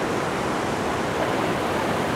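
A stream rushing across a hiking trail crossing at Havasupai: a constant, dense wash of flowing water with no breaks, heard close and fairly loud.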